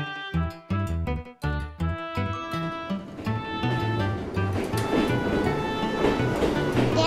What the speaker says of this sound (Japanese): 電車は寂し村を出発しました。